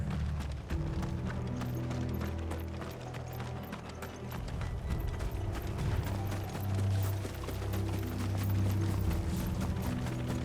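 Galloping horses' hooves in Final Fantasy XVI drum steadily and loudly throughout, a continuous clip-clop with a mechanical rattle of tack and gear layered over a low rumbling bed.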